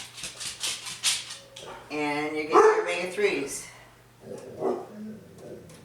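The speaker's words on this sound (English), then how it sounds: "Sorry for the barking dogs" A dog barks a few times in the middle, mixed in with a person talking close by, with a low steady hum underneath.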